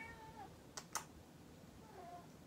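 A house cat meows softly in the background during a quiet indoor recording, two short faint calls close together, with light room hiss and no talk over them.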